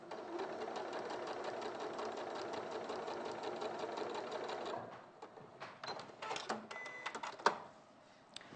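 Domestic sewing machine chain piecing fabric quilt blocks, running in a steady continuous whir for several seconds, then stopping, followed by quieter clicks and fabric handling.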